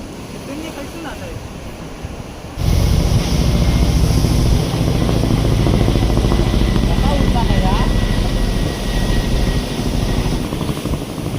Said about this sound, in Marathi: हेलिकॉप्टर दाखवले बघितलं कसा.